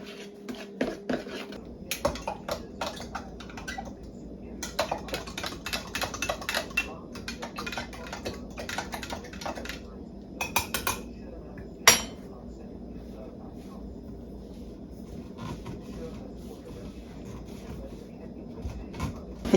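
Peach pie filling stirred by hand in a baking dish, with scattered scraping and clinking of a utensil against the dish in irregular bursts, fairly close and moderately quiet over a faint room background.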